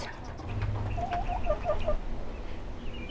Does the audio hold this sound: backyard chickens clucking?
yes